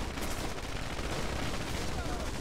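Rapid, dense video game gunfire from a firing line on a bridge, with overlapping shots forming a continuous barrage throughout.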